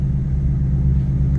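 A stock 2019 Ford Mustang Shelby GT350 gives a short, steady, deep exhaust rumble at idle, close by and alone, with no talking.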